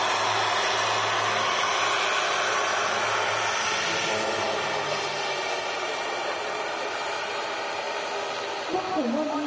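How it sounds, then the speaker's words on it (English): Jet2's oldest Boeing 757, G-LSAI, touches down on runway 05L at Manchester Airport during a test flight. Its steady, loud broadband roar fills the whole stretch, then eases slightly toward the end. "Jet 2757 LSAI, the oldest in the fleet, on a test flight. Touching down here at Manchester Airport"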